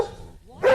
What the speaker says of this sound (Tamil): ஃபர்ஸ்ட் நாய் குலைத்ததற்கான காரணத்தை பார்த்துடலாம்.